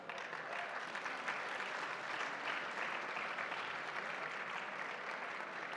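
An audience applauds awardees at a ceremony, a continuous even roar of clapping that sounds distant and fairly faint, holding steady throughout.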